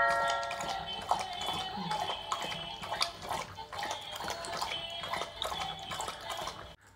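A dog lapping water after eating biscuits, with steady, rhythmic wet laps close by and no talking.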